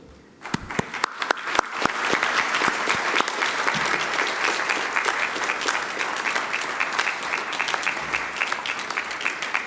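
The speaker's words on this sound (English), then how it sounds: "Let's applaud." A crowd at a university graduation ceremony applauding loudly and steadily, sustained clapping that starts abruptly and continues without pause.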